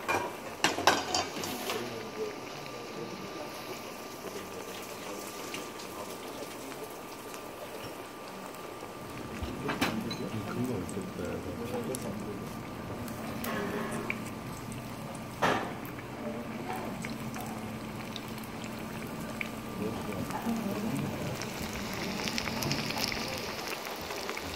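A chicken cutlet deep-fries in oil heated to about 170 degrees, giving a steady, close sizzle and bubbling that goes on throughout, with a few light clinks of kitchen tools.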